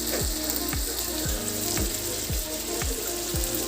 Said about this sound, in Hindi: अब हम थोड़ा इसे भून लेते हैं।